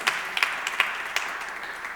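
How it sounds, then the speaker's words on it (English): Audience applause in a large hall at a startup competition final, a dense steady patter of many hands with a few sharper claps standing out, moderately loud and continuous with no talk over it. "So please, let's give it a round of applause."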